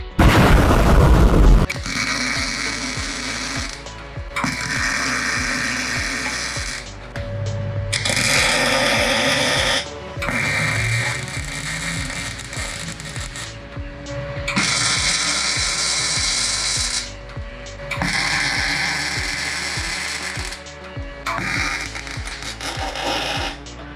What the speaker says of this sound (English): we'll just start with tacking all the plates in